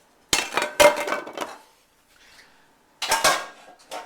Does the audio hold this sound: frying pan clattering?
yes